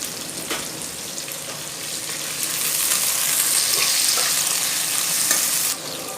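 Onions fry in a pan for idli sambar while being stirred, producing a steady close sizzle that swells louder midway, with occasional scraping.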